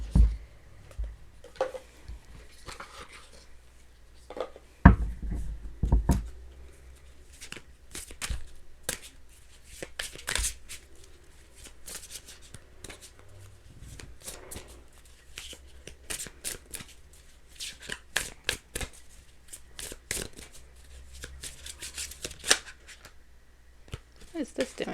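Tarot cards being shuffled by hand, a run of crisp riffling and flicking bursts with scattered sharp card taps, close and fairly quiet against a low background hum.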